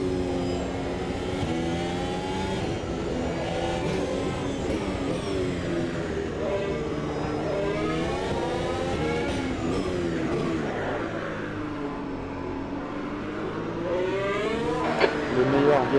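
An F1 car engine from the 2022 season in the Automobilista 2 racing game, lapping Monaco, whines loudly and continuously, with its pitch sweeping up and down through gear changes, under a voice speaking over the radio.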